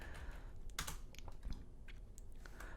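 Typing a command on a computer keyboard at a Linux or Mac terminal: a quiet, steady run of soft key clicks alone, with a couple of slightly firmer strikes.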